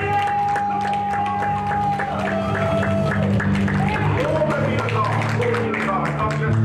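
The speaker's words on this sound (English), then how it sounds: "can you give the Lord a mighty hand clap?" A church congregation gives a hand clap, with a steady wash of many hands clapping throughout while voices and a sustained tone carry on beneath it.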